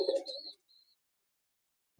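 An army pigeon gives a short, close coo at the start, followed by a faint brief trill, and then near silence.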